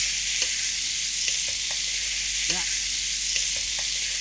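Raw plantain pieces, added still wet, fry in a hot pan with a steady loud sizzle and occasional scraping stirs and small clinks over the top.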